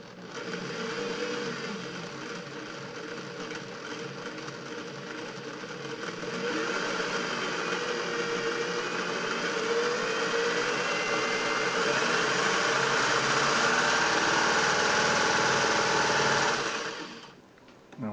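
A Singer 600E sewing machine runs with a steady whirring hum, growing louder and faster partway through as the speed rises, then winds down and stops near the end; it is heard alone.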